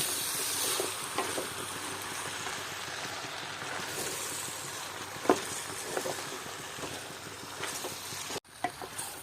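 Mixed pickle ingredients stirred in a hot pan, with a steady sizzling hiss and occasional scraping clicks from the spoon, ending in a brief cut and a few clattering knocks.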